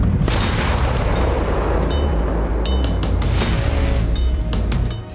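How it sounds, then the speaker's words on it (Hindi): JDAM bombs strike Russian army positions in Kursk, producing a loud, continuous roar of blasts and rumbling booms with crackling bursts layered on top, heard from a distance and fading out at the end; no speech. "कुर्स्क के त्योकटिक्नु में रूसी सेना के ठिकाने पर यूक्रेन ने जडैम बमों से हमला किया।"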